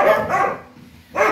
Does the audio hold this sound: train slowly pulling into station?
no